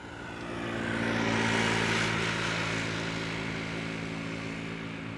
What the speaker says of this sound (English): 747-400, departed 1 minute ago.